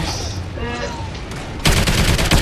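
Rapid turret gunfire erupts in the extinction mode of a shooter video game, a loud dense stream of shots starting suddenly after a short stretch of game noise and a voice.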